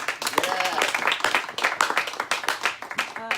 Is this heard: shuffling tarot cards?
no